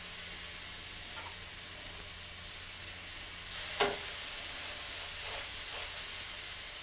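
Shawarma skewers brushed with olive oil sizzle oil side down on a grill, a steady broad hiss running throughout at moderate level, with a brief sharper crackle burst partway through and no talking.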